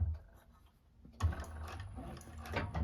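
A 1341 cylinder arm sewing machine stitches a bag seam, starting after a quiet pause with a quick rhythmic mechanical chatter of needle and feed that runs steadily close by.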